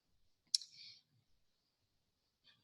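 A single sharp click of a computer mouse, close and brief, followed by near silence and a faint second tick a couple of seconds later.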